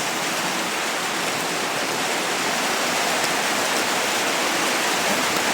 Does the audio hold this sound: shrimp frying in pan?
no